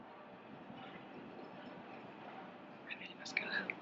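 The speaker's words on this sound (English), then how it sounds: "The train now arriving at platform 3 is the 5:43 from" A train pulls in alongside a 1940s railway station platform: a low, steady rumble of carriages with a brief metallic wheel squeal near the end, and faint murmuring voices in the background.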